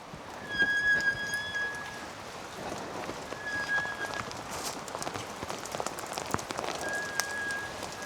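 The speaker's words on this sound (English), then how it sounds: "it's raining so much" Heavy rain pounds steadily on surfaces outdoors in Lithuania during a bike trip, a dense, close hiss of drops with a few repeated high beeping tones sounding over it.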